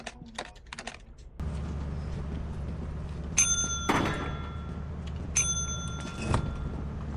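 A bell rings twice inside the video game Lethal Company, bright ringing strikes about two seconds apart, heard over a steady background hum with keyboard typing and thuds.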